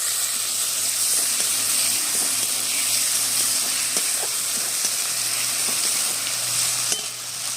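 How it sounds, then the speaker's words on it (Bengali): Tomatoes and spice paste sizzle in hot oil for a Bengali fish curry with a constant, close hiss and faint stirring clicks, steady for several seconds. "আমি এখানে দুটো টমেটাম নিয়েছি সেটাও দিয়ে দিচ্ছি তেলের মধ্যে"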